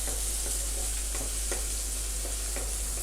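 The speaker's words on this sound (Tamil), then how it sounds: "இந்த ஆனியன் வந்துட்டு இப்போ ஆயிலில் 1 minute நல்லா ஃப்ரை ஆகணும்" Onions with curry leaves frying in hot oil in a pan, a steady close hiss with a few soft stirring knocks, no voices.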